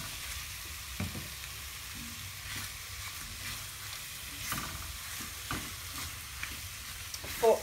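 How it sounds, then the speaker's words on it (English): Tomato paste cooking out in a pan for butter chicken, sizzling steadily while a spoon stirs and scrapes, giving soft periodic scraping strokes over a continuous fry, with a sharper knock near the end. "I'm just going to let the rawness of that tomato paste cook out"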